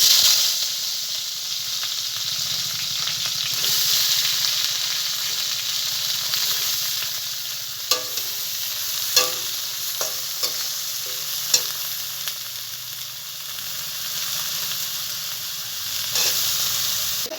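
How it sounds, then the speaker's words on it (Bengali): Taro leaves laid into hot oil left from frying rohu fish give a steady, close sizzle and hiss throughout, with a few sharp crackles and utensil clicks in the middle section. "এখন এই মাছ ভাজা তেলের ভিতরে আমি কচু শাকটা বসিয়ে দেবো"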